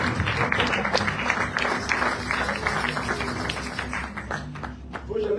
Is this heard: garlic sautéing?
no